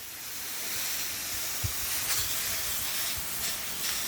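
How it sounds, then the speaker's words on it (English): A steady hissing spray of water mist from a spray bottle onto a plant goes on for several seconds, soft and close, with a few faint thumps underneath. "and then you just spray."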